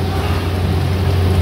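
Water is poured into lati ni dal cooking in a hotel kitchen, making a steady, loud rushing hiss that runs unbroken throughout, with no talking.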